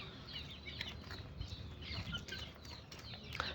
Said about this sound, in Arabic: الدجاجة السوداء طلعناها من المحمية